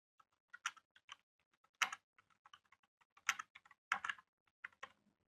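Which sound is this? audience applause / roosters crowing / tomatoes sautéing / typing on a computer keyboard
typing on a computer keyboard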